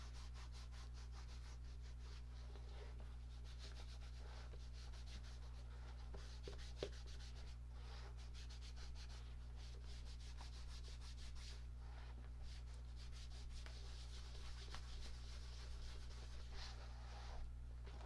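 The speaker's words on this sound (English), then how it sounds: "can you pick up the like polishing buffing noises?" Faint, rhythmic rubbing strokes of hand polishing and buffing on a crafted sewing accessory, close but very quiet over a low steady electrical hum.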